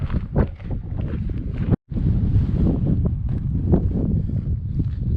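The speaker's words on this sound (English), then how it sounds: "Sorry about the wind." Wind buffeting the microphone outdoors at an ancient pueblo site near Sunset Crater, a loud continuous rumbling roar with gusty surges and one brief dropout, no voices.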